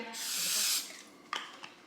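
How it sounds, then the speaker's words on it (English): A short, close hiss of cooking spray onto a heated skillet lasting under a second, followed by faint scraping and a couple of light clicks. "All right, we're going to heat a skillet. I'm going to spray it lightly."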